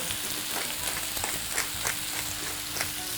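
Shrimp, cleaned with tails on, sizzle in a hot pan, a steady close frying hiss with scattered crackles and pops running the whole time, no talking.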